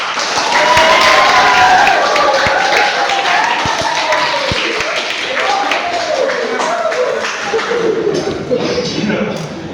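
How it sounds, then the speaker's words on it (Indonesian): Students in a classroom clap their hands together in a noisy group burst that fades slowly, with talk and chatter running underneath. "Ini tanda kalau iya tepuk tangan"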